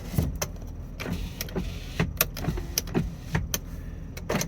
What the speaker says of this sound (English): all the windows work, auto up, down.